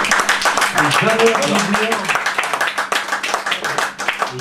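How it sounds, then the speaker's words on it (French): Audience clapping for performer Pierre Mège at a live show, a dense, fairly loud burst of hand claps with voices and other sounds mixed in, settling into scattered claps. "vraiment un tonnerre d'applaudissements pour lui"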